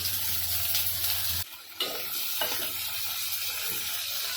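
Tomatoes go into a pan of onions frying golden brown for Kolhapuri misal, and a steady close sizzle follows a brief drop in sound after the ingredients are added, with no talking.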